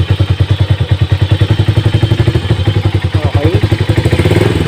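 A Rusi DL150 motorcycle engine runs after starting, with a rapid, even thumping idle beat heard up close and loud, while a voice speaks briefly over it.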